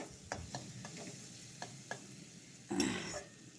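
Pointed gourd (potol) fries with spices in a pan, a steady low sizzle broken by several sharp stirring scrapes and one louder burst of frying near the end, close and moderately loud with no talking.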